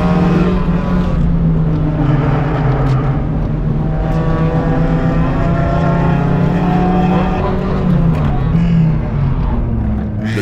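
Race car engines drone loudly and continuously in the Gran Turismo video game during a race that includes a BMW. The engine tone stays sustained with slowly shifting pitch and no pauses throughout.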